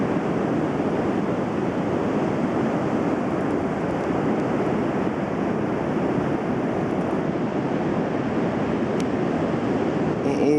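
Sea waves breaking on a wide beach, a constant broad roar of surf with gusts of wind buffeting the microphone, loud and unbroken throughout.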